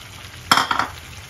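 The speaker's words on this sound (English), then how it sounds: "you're going to give it a stir and cook it about 5 minutes to get it nice and bubbly" A spoon stirs a pan of boiling water, sugar and coconut vinegar, giving one short scrape and clatter against the pan with a faint bubbling hiss behind it.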